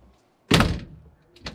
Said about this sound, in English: The door quality of the cabin.